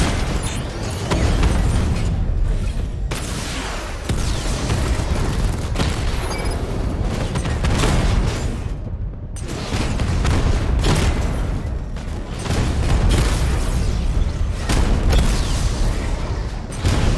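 Tank cannon fire and explosions from Batman: Arkham Knight, with a 60mm cannon pounding heavily armored units: loud, dense, continuous booms and blasts layered with mechanical rumble, a heavy barrage with only brief lulls.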